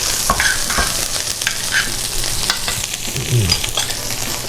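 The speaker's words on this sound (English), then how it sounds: "we're just going to add some of that nuja to the pan" Nduja sizzles and caramelizes in a hot pan, with steady frying crackle broken by scraping stir strokes and a few sharper pops, close and moderately loud with no voices.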